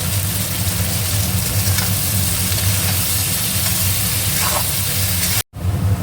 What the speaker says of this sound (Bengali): দেখো পেঁয়াজটা ভাজা ভাজা হয়ে গেছে